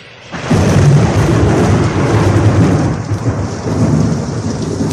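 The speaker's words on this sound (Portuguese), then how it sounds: "A chuva fica ainda mais pesada em Roma." Heavy rain pours over Rome with rumbling thunder, a loud, dense and steady roar that swells in at the start and continues without letup, no voices present.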